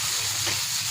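Small eggplant sizzles in a pan with potatoes and dried kachki fish, producing a steady, bright frying hiss that stays even and close throughout.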